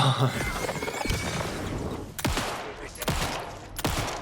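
Several sharp gunshots in the video game Alan Wake 2, fired singly and in quick bursts over a dense background of game ambience and music, loud and close.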